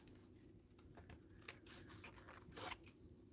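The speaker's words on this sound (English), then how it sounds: "So I'm just cutting around the edge of the cardstock." Scissors snipping through stiff card, a series of soft crisp cuts at an uneven pace, close and quiet, with one sharper crunch near the end.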